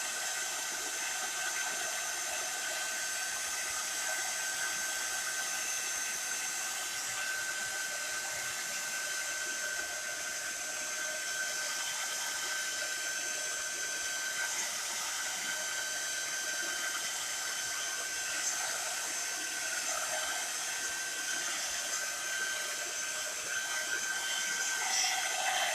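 A heat tool blows hot air over a crafting project, an embossed wooden sign, producing a steady, even whooshing hiss that holds constant and fairly quiet with no talking.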